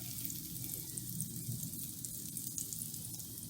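Pancake batter with stuffing spread in sizzles steadily in a frying pan, a continuous close crackling hiss with no talking.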